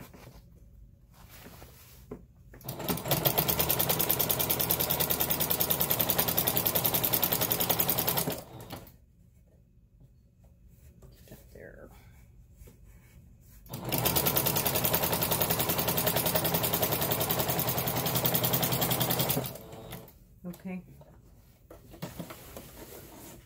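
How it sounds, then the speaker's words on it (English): A sewing machine stitches a blackout lined curtain in two long, steady runs of rapid mechanical chatter, each lasting about six seconds, loud and close with quiet pauses between. "I'm going to sew all the way to the end."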